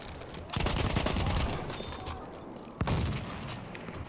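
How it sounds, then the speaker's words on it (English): Battlefield 1 gameplay gunfire, with dense bursts of rapid shots and booming fire in a sustained barrage, a brief lull, then another sharp blast and renewed firing. "Some guy came up to knife me, I just shoot him in the stomach."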